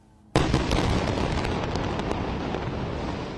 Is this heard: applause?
no